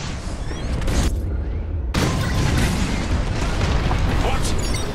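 Bombs burst in booming explosions during a starship raid in the video game Star Wars Squadrons, loud dense blasts rolling continuously with a brief dip before the roar resumes, voices talking over it.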